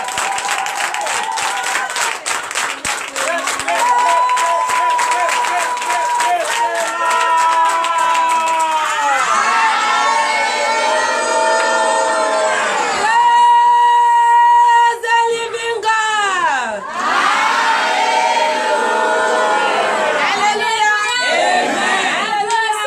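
A church congregation in Comè, Benin, cheers and applauds a newly elected ministry president, with loud sustained crowd noise, clapping and raised voices, including shouts and singing-like calls over the top.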